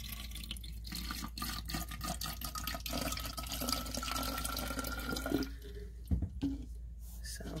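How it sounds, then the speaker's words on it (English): Water runs and splashes steadily into a bottle, filling it about a third full, a soft continuous trickling with a few small knocks near the end. "we're going to fill our bottle about 1/3 of the way with water."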